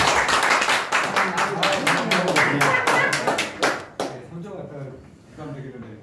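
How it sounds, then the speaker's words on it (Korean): Applause from the audience at a Lions Quest instructor workshop: a burst of many hands clapping, dense and close for about four seconds, then fading out as a voice begins talking. "박수."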